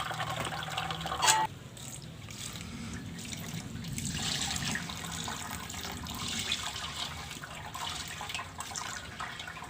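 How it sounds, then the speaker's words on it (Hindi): Steady running water splashing into a sink as vermicelli is rinsed in a colander, continuous and close, with a brief louder splash near the start and no talking. "फिर इसको साफ पानी से अच्छी तरह इनको धो लेना है"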